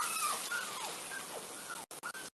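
Puppies whimper in an animated cartoon, with a series of high, thin whining cries rising and falling in quick succession, close and clear, briefly cut by short gaps near the end.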